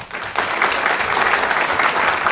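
Audience applause at a city council meeting, a dense steady patter of many hands clapping that swells in after a brief quieter start and holds loud and even to the end.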